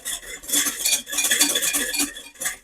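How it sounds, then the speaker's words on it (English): A metal whisk works béarnaise sauce for a griddled ribeye in a pan with brisk, continuous clinking and scraping strokes, close and fairly loud, with no talking. "the whisk is just starting to leave lines"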